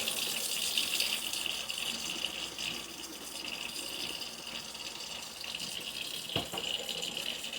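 Kitchen tap water runs steadily while hands are scrubbed and washed, a continuous close splashing stream with small shifts in flow and no talk.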